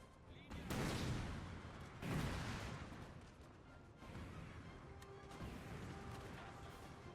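Heavy cannon artillery fire in the Napoleonic-era strategy game Napoleon Total War, with booming blasts near the start and around two seconds, then a continuous rumbling battle din. A voice talks over part of it.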